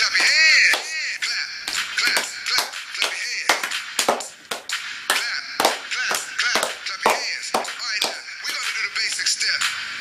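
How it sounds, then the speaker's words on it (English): Hands clap in time to a song, a string of sharp, evenly spaced claps following the song's beat, with music and a voice running underneath. "Everybody clap your hands"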